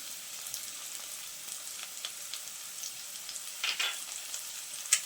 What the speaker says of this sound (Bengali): তেলটা গরম হয়ে গেছে, এখন আমি দিয়ে দিচ্ছি পেঁয়াজ কুচি, কাঁচা লঙ্কা কুচিটাও দিয়ে দিচ্ছি